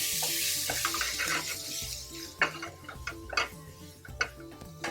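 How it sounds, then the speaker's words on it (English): Chili, coriander, cumin and cardamom are stirred into onions in a pan, producing soft, irregular scraping taps and a quiet sizzle up close, with no talking. "So in go the chili and the coriander powder, cumin powder, cardamom seeds, and the stir."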